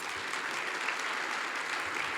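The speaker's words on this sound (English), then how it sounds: "let's give them all another big round of applause" A crowd claps for finalists and awardees at an education excellence celebration, a dense, even roar of applause sustained throughout.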